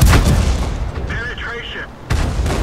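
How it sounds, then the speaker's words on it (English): A tank cannon fires at an enemy vehicle in the World of Tanks video game, a loud booming shot with rumbling tail and a short metallic tone, repeated near the end. "Aim at an enemy vehicle and fire."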